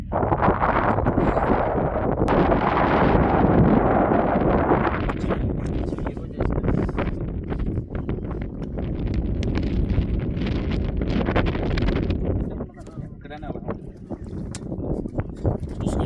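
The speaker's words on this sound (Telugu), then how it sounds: "గాలి ఎక్కువ" Strong wind buffets the microphone in a loud, continuous roar at a lakeside viewpoint, easing slightly toward the end.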